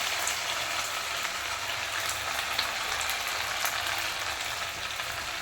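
Medu vada fry in hot oil with a dense, even sizzle that crackles continuously at close range, with no voices over it.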